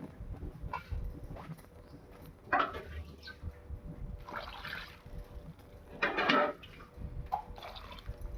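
Baby mangoes being rinsed in water in a vessel, with intermittent splashes and sloshing bursts between quieter dripping moments, close and uneven.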